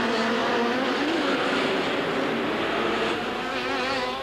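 Jaguar sports prototype racing at the 1984 IMSA Miami Grand Prix street race, its engine a loud, continuous high-revving drone with wavering pitch as it runs past, with no voices.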